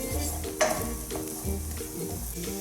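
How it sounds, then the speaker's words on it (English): Onions sauté in a pan with a loud close sizzle, broken by stirring scrapes and a sharp clink of utensil on pan near the start, then continuing in uneven pulses. "Now, let's add the onions. Saute them until they're nice and golden brown."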